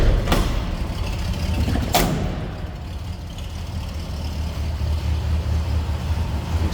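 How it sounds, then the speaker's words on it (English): A 1980 Chevrolet K10 Custom Deluxe 4x4 pickup idles with a small exhaust leak, a steady close low engine rumble, broken early by two sharp metallic clunks as the hood is handled. "Sounds like we have a little exhaust leak."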